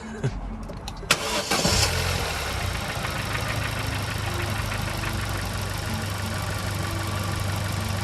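A Vauxhall Corsa VXR engine cranks and fires with a sharp burst, then settles into a steady, loud idle with a low, even hum that holds close and constant.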